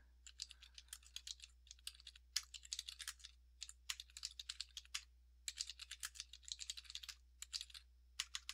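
Someone types fast on a computer keyboard during a game of Kyrandia. Crisp, close key clicks arrive in rapid bursts with short pauses over a low steady hum, and nobody speaks.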